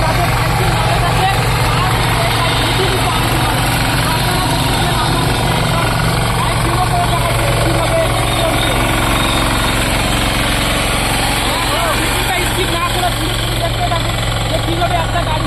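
Small farm tilling vehicle with a 3.5-litre fuel tank, its engine running in a loud, steady, throbbing drone right up close, with someone talking over it.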